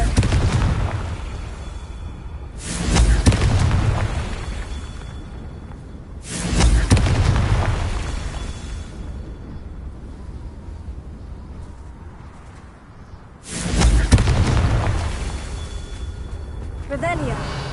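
Booming fire-spell blasts from a Harry Potter video game, three heavy explosions spaced several seconds apart, each swelling loud and rumbling before fading into a steady background ambience, with a voice speaking between them.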